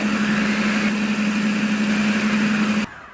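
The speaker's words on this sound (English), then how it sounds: "Having allowed all the dry ingredients to blitz, you've got quite a coarse, beautiful green texture." A food processor blitzes the dry ingredients for a spicy cilantro pesto with a steady, close motor whine and hum that runs without a break, then stops abruptly just before the end.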